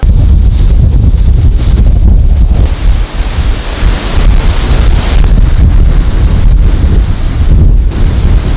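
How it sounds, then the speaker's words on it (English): Strong, gusty wind of 35 to 40 mph roars against the microphone without letup, with a steady rush of surf-like noise underneath and no voices. "We're gonna be struggling with the wind today. We have 35 to 40 mile an hour gusts coming through."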